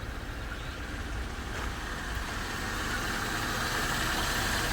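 A 2005 Mercedes E350 W211 with its 3.5 engine runs at a low, steady idle, a quiet and even hum with no voices.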